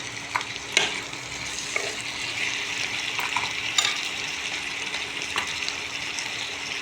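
Chopped ginger tossed into chicken frying in a pan, a steady close sizzle with scraping and stirring clicks throughout, no voices.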